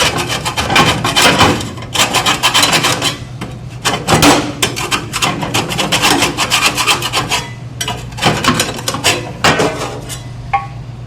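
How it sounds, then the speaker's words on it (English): A scraper works inside a Duke broiler, loud, close and rasping, with rapid back-and-forth metal scrapes in continuous bursts and brief pauses between them. "Take your scraper on the inside, just scrape down."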